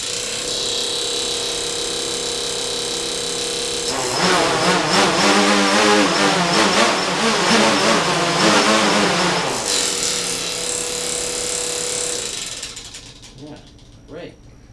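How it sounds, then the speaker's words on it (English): Quadcopter propellers spin up on a test rack into a loud, steady mechanical whir with rattling and surging pitch for several seconds, then drop back to a lower hum before fading out. "The propellers are just going crazy."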